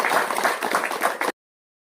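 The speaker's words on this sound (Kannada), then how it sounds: "ನಮ್ಮ ಊರಿನ ವತಿಯಾಗಿ ಅವರಿಗೆಲ್ಲ ಜೋರದ ಚಪ್ಪಾಳೆ ಮುಖಾಂತರ ಧನ್ಯವಾದ" Enthusiastic audience applause thanking officials, a tahsildar and police sub-inspector among them, at a public felicitation event in Hungund, Bagalkot; dense, steady clapping from a crowd that stops abruptly.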